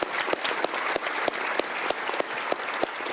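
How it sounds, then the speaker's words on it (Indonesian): Audience applause for Pak Iwan at a talk show, dense steady clapping from a crowd close by, filling the whole stretch without a break. "Oke, tepuk tangan dulu dong buat Pak Iwan ya."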